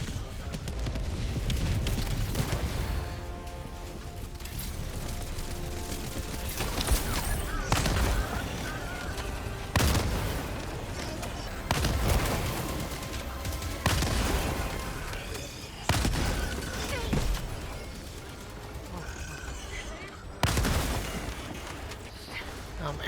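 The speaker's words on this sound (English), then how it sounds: "You just shoot the vent with the eruptor," Helldivers 2 gameplay with the Eruptor weapon firing at a vent, bringing loud booming shots and explosions at intervals over a continuous rumbling battle din, with a voice talking throughout.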